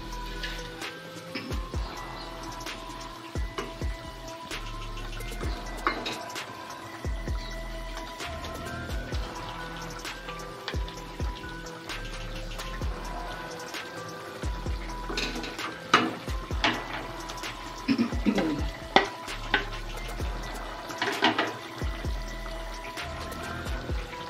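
Fish curry gravy bubbling in a pan for a parshe fish dish with sour yogurt and fenugreek, a close, steady burble of small pops and drips with occasional louder splutters and no talking.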